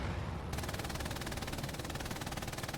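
Sustained automatic gunfire from the WWII shooter Hell Let Loose, a rapid, evenly pulsing stream of shots that starts abruptly and then runs loud and unbroken to the end.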